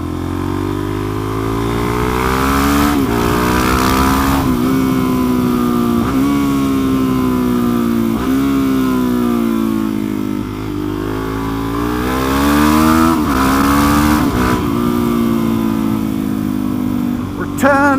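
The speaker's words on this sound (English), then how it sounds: "I have a bike behind me" A motorcycle, a DRZ dirt bike, rides close behind on the road, its steady engine drone rising and falling with throttle changes across the whole stretch, loud and continuous.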